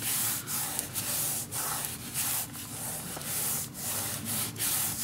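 Paper being burnished down onto a mini album page, a steady dry rubbing hiss in repeated back-and-forth strokes, close and continuous with no talking.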